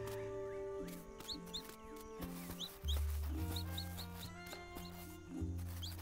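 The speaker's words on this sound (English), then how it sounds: "I know, so many chickens." Chickens in the video game Dinkum cluck in short, squeaky, repeated calls scattered over background game music, fairly faint and without talk.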